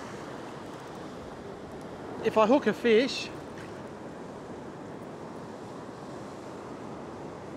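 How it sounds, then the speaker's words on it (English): Ocean waves wash steadily against a rocky shoreline fishing spot in a continuous broadband roar, with wind noise and a brief spoken phrase in the middle. "Keep my eye on the waves."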